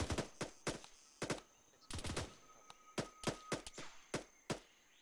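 A 40mm grenade launcher in a military video game fires smoke rounds, sending out a string of sharp, close shots in irregular clusters with short gaps between them and little talk.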